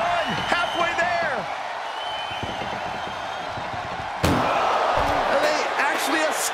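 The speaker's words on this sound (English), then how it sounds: "Desperately trying to close the first of two doors." An ambulance door slams shut in a wrestling video game with one loud, sharp bang midway through, set against crowd noise and an excited commentator's voice.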